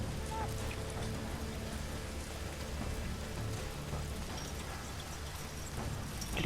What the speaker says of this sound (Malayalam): എനിക്ക് മഴ ഇഷ്ടപ്പെടാത്ത എനിക്ക്.